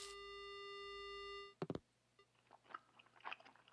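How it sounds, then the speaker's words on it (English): Wet chewing in the horror game Death Mark: a steady tone cuts off, then a few sharp crunches and scattered smacking, squelchy mouth sounds follow, close and fairly quiet with no talk. "Crunching, smacking like the sound of saliva as someone chews."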